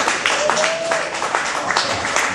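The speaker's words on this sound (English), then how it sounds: "I'll give him a round of applause." A studio audience applauds a guest head coach of a college football team on a sports talk show, a steady broadband wash of many hands clapping that fills the whole moment at moderate loudness.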